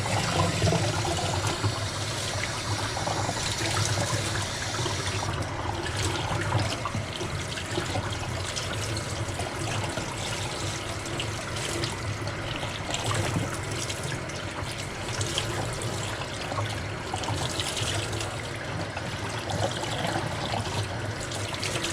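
Water running steadily from a tap or hose while rinsing a rainbow tie-dye T-shirt, a continuous splashing and trickling rush that stays loud and close throughout, with no talk over it.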